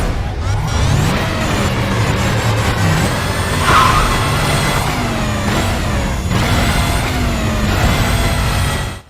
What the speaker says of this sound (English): You'll get fantastic car sounds and engine revving.